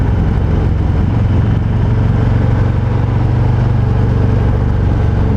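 A 2020 Harley-Davidson Fat Boy engine under way, a loud, close, continuous low rumble with steady throbbing pulses and wind noise, no talking over it.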